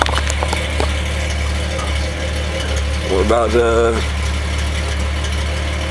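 A 1984 Toyota Supra with a 6MGE engine idles steadily through its exhaust, a low continuous rumble with a brief rise in revs partway through, while someone speaks nearby.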